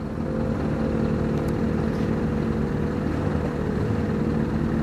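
Motorcycle engine, a Yamaha XJ, running loud and steady with a dense low drone throughout, close by.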